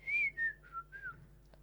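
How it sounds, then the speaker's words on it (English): A person whistles a short descending tune of four or five clear, close notes, fairly loud and alone, ending with a faint click. "Please whistle loudly."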